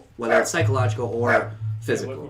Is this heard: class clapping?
no